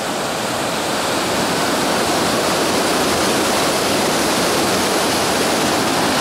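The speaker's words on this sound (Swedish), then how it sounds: "Det var ingen liten creek." Loud, steady rush of creek water flowing through Alaskan wilderness, a continuous broadband roar that fills the whole clip with no voices.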